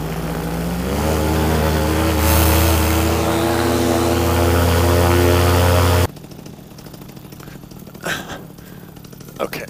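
A small propeller airplane's engine runs at high power for takeoff from an oyster bed, a loud steady drone with rising harmonics that cuts off abruptly partway through, followed by quieter wind and scattered knocks.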